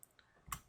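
A few faint, separate key clicks from typing a date into a spreadsheet on a computer keyboard, a soft tap near the start and a louder one toward the end, in a quiet room.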